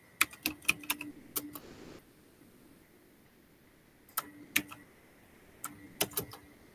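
Someone types google.com on a computer keyboard, producing three close, quiet bursts of quick keystroke clicks separated by short silences.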